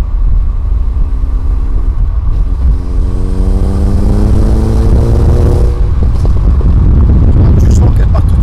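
Tuned Audi S3 8P with a stage 2 engine accelerating hard on the road, a loud continuous rising engine roar with climbing harmonics through the gears, close and steady with road rumble beneath.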